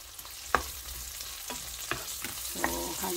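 Tomatoes stirred into sautéed pakbet vegetables in a hot pan, a steady sizzle of frying under a handful of distinct scraping, clattering stirring strokes spaced about a second apart, with no talking.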